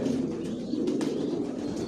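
Racing pigeons of the Johnson bloodline in their loft give a steady, low murmur of cooing from many birds at once, continuous and fairly close, with no talk over it.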